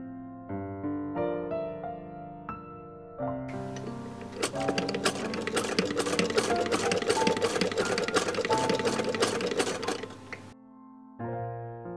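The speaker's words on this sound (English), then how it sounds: "I sew the lining to the outside of the coat" A sewing machine stitches a coat lining for a Victorian-style robe, running in a steady rapid clatter for several seconds between quieter intervals, close and alone.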